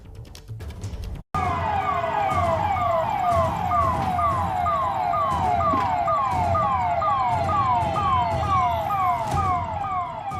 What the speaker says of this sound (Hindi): पुलिस का सायरन तेज है